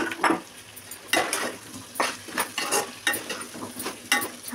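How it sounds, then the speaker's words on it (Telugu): Pumpkin pieces going into a pan of frying onions with rock salt, giving a continuous sizzle broken by repeated scraping strokes of a spoon against the pan. "ఉల్లిపాయలు వేగాక గుమ్మడికాయ ముక్కలు వేసేసుకోండి."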